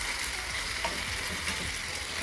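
Noodles and vegetables being stirred in a frying pan for chicken lo mein, a steady close sizzle with soft scraping stirs running throughout, no voices.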